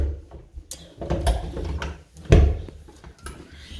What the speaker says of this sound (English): you do need to give the door a good push to fully close it